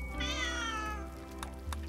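A cat in the RimWorld video game lets out a long, loud, plaintive meow lasting most of a second, followed by fainter short cries over a steady low game hum.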